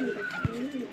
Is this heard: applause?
no